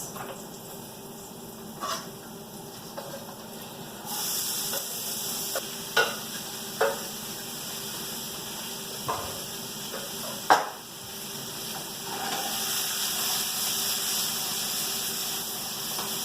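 Carrots and other vegetables sizzle steadily in a little oil in a pan over lowered heat, a continuous close fry with a few sharp clicks of stirring scattered through.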